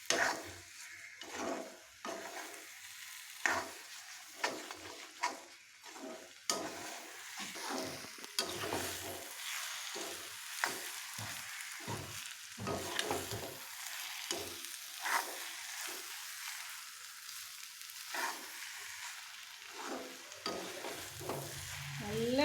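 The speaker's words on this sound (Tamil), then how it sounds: "நல்லா கிளறி விடணும், இல்லைன்னா அடியில் பிடிக்கும்." Prawn and egg stir-fry sizzling in a pan while being stirred, with repeated scraping strokes of a spatula over a soft, continuous frying hiss at moderate volume.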